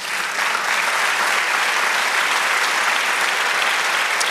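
Church congregation applauding during a sermon, a sustained dense wash of clapping from many hands, loud and even throughout.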